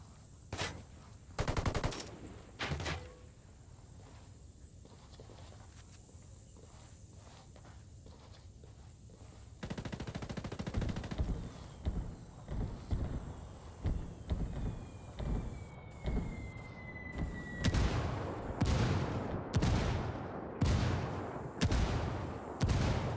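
Gunfire during a Ghost War PS4 match: sharp isolated shots early, then dense volleys of rifle and automatic fire, growing louder and more frequent toward the end, with occasional footsteps and rattling between.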